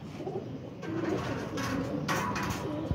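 A pigeon coos softly and repeatedly against steady background noise, with a few louder rustles or flutters nearby and no speech.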